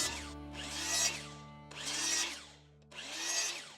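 Miter saw slicing a wooden fence picket at a 5-degree bevel, three separate cuts each rising to a loud bright whine and spinning down, close and with no talking.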